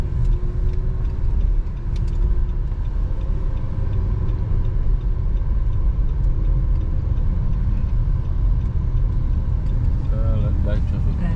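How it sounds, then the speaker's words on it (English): Light road traffic on a street in Colombia, a low continuous rumble of passing cars and engines with some faint mechanical whines, under occasional nearby voices. "Light traffic."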